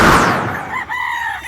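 A rooster crows once among a flock of about fifty fighting chickens kept on a farm, a single loud, strained call that trails off and wavers over a second and a half, close by with no talk.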